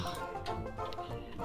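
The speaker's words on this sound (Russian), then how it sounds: "Я нашел эту курочку." A chicken in the Minecraft video game clucks in a few short, repeated bursts, close and fairly loud over a steady game background with no talking.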